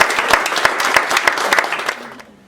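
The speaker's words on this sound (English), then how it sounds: "seriously, give them a round of applause" Audience applause from a seated crowd at a talk, a burst of many hands clapping close and loud, then thinning and fading out near the end.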